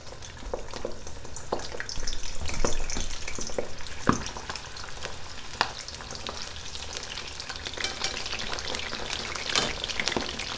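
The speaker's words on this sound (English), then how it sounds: "I'm going to drop them because this is not like a fried calamari situation. These are shrimp in the shell." Shell-on shrimp deep frying in hot oil, a steady close crackling sizzle with bursts of spitting and popping throughout.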